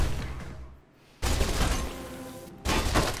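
Bursts of heavy gunfire hit the player in Mirror's Edge, two loud dense volleys separated by brief lulls, the shooting near and sustained.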